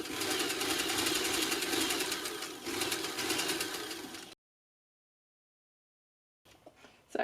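A sewing machine stitching the hem of a fabric head wrap runs in a fast, continuous motor whir with a rapid needle clatter for about four seconds, then stops into silence before faint handling sounds return.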